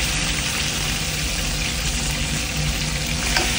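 Pork ribs sizzle in a pot with garlic and lemongrass for pork rib and mongo bihon soup, a loud continuous crackling fry with no pauses.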